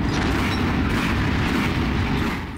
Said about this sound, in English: Easy to hit them with rockets.